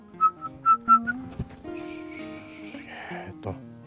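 Several short, sharp whistles in a quick series, followed by a longer warbling whistle and some faint background noise, whistled to a horse during training.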